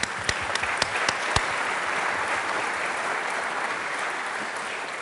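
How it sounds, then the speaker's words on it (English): An audience at Unity Temple claps steadily after a play, a dense wash of applause with a few sharper claps standing out near the start. "Keith, we want to give you a round of applause."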